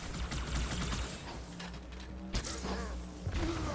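Gunfire in the video game Halo 2, heard as rapid, fairly faint mechanical bursts and clatter with a couple of sharper cracks, no talking over it.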